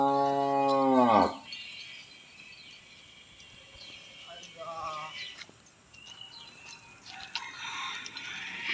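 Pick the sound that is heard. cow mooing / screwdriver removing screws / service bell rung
cow mooing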